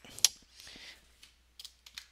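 Typing code on a computer keyboard, with sparse, uneven clicks and taps at close range, one sharp keystroke louder than the rest, and no talk.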